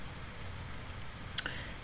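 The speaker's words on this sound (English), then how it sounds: "So I'm going to click on ellipse." A single crisp computer mouse click stands out near the end of a quiet stretch, sharp and close against faint background hiss.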